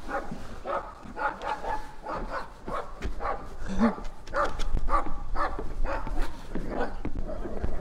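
Several dogs bark, yip and growl in rough play-fighting on a farm, close and fairly loud in overlapping bursts throughout, with a person's voice briefly heard among them.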